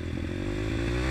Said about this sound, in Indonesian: Ketika dihidupkan itu seperti apa ya, meledak-ledak gitu loh di bagian knalpotnya